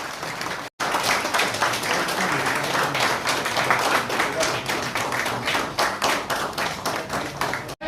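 An audience at a press conference in Mumbai on unorganized workers gives steady, rhythmic applause, dense clapping with a distinct beat after a brief pause at the start, with faint voices underneath.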